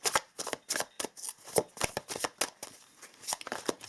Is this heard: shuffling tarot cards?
yes